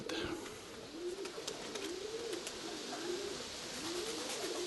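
Pigeons coo in a steady series of soft, rolling calls repeating about once a second, moderately close, with light background noise and occasional faint clicks.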